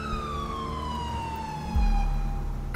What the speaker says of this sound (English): I just turned off my siren to not scare them off